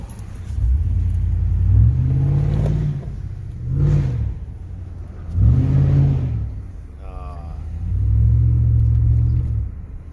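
Exhaust of a 1999-2006 Chevy Suburban with a 5.3 V8 and the muffler deleted: deep, loud revs that rise and fall in several distinct bursts, with throaty rumbling between them.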